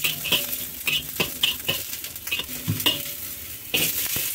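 Garlic frying in a small amount of oil for an Angus beef curry, a soft crackling sizzle broken by rhythmic clinks and scrapes of a utensil stirring against the pan, close and unaccompanied by speech.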